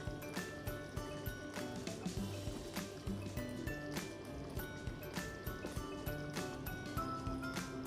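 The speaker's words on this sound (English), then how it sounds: "So we'll go ahead and add all the paneer that we had chopped." Chopped paneer pieces drop into a pan of spiced coconut milk, giving soft wet squishes, small drips and liquid splashes over a steady low background, fairly close, with no talking.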